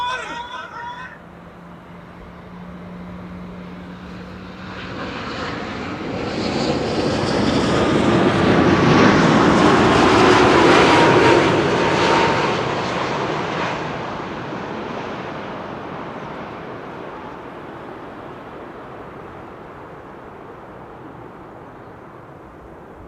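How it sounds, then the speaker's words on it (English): A KLM Boeing 787-10 Dreamliner arrives at Amsterdam Schiphol, its jet roar swelling from a distant rumble to a loud, close pass with a descending whine, then slowly fading back into the distance. "KLM flight 746. 787-10 Dreamliner arriving from Cartagena in Colombia"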